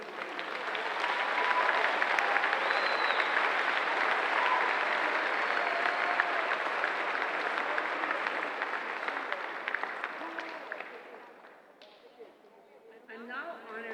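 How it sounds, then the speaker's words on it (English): Sustained applause from a large audience at the University of Hawaii at Hilo spring commencement, a dense clapping wash that rises quickly, holds for about ten seconds, then fades as a voice over the public address system begins. "We give our special guests and our bachelor party a big round of applause."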